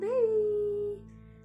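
A single short wail from an infant, rising then holding steady for about a second before fading, close by with a faint background hum.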